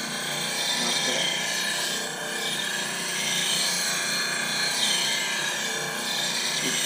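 A bowl gouge is ground on a grinding wheel, giving a continuous close hiss and scrape that rises and falls slightly as the tool is rotated on the rest.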